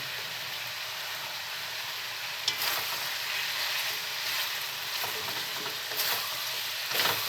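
Potatoes and carrots fry in a pan for chicken curry, a steady close hiss of sizzling oil running throughout with a few brief scraping stirs layered on top.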